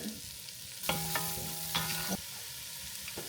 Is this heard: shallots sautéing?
yes